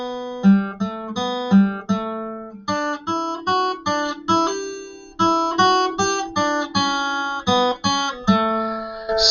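A plucked guitar plays the bright, stepwise top line of Minuet in G in even notes, each ringing briefly before the next, solo and close with no voices.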